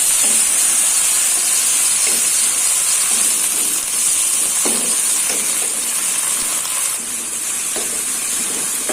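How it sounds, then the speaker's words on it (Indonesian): Water poured into a hot wok of long beans sends up a loud, continuous steam hiss that holds steady throughout, with faint scattered clinks of cooking beneath it and no talking. "Ini akan saya kasih sedikit air ya biar kacang panjangnya lunak ya."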